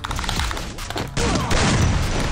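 Rapid bursts of gunfire in the battle royale game Free Fire, with dense overlapping shots and booms at close range, growing louder and more continuous in the second half.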